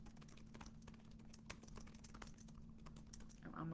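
Typing on a computer keyboard indoors, faint, quick, irregular key clicks under a low steady background hum, with no voices.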